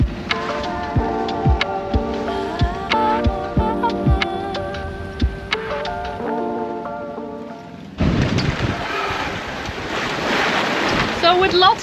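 Strong wind and rolling ocean waves buffet a sailboat at sea near a Tuamotus atoll, with gusty wind noise on the microphone, splashing surf and clanking rigging, loud and continuous.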